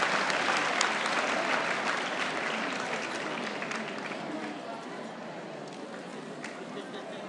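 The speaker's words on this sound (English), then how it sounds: "please give a warm round of applause" An audience at a finance careers event hosted by CFA Philippines breaks into sustained applause, a thick, loud roar of many hands clapping that gradually eases slightly in intensity over several seconds.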